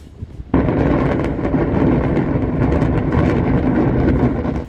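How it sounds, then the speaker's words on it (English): A sharp blast from a controlled explosion demolishing an old building, followed by a loud, sustained roar of collapsing rubble that rumbles on for several seconds. "the explosion was controlled"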